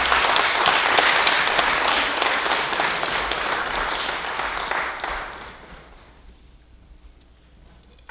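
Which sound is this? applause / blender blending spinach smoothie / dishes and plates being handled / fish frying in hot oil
applause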